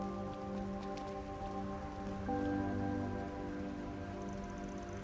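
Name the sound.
rain falling in video game Trails through Daybreak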